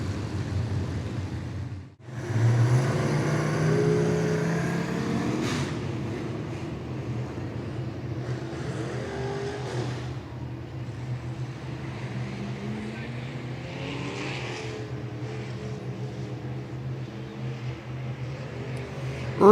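Stock car engine at Clay County Speedway accelerating hard out of a turn, a sustained loud rumble with rising harmonic sweeps as the car passes, steady roar throughout.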